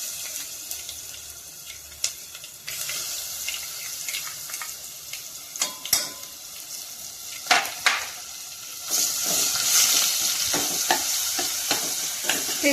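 Crushed roasted green chili thecha frying in oil with reddened peanuts over low heat, a steady soft sizzle with scraping stirs and clinks, the sizzle swelling louder toward the end.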